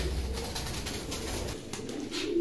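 A pair of Pakistani Teddy pigeons coo softly and steadily over low background rumble, with no voices.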